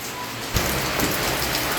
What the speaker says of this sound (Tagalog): Ngayon, umuulan.